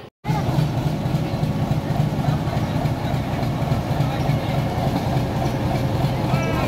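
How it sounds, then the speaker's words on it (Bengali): The Jaria local passenger train runs along its rails with a steady, loud rolling rumble and faint rhythmic clatter from nearby, continuous throughout apart from a brief gap at the very start. "যাদের প্রচেষ্টায় আজকে ট্রেনটা চলছে"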